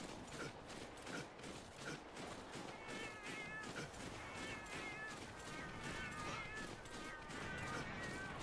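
Cat companion meowing in Monster Hunter Generations Ultimate: repeated short, high meows over busy game noise with rhythmic thumps and scuffing, fairly close and steady throughout.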